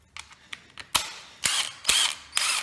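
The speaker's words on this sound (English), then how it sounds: "And for that, we will need the impact driver." Impact driver on the clutch nut of a Honda Zoomer scooter: about four sharp, loud rattling bursts close by, each a fraction of a second, after a few faint ticks and clicks.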